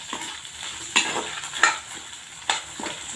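Chickpeas stirred as they fry in a pan: a steady sizzle with a few sharp scrapes and clinks of the spoon at irregular intervals, close and moderately loud, with no talking.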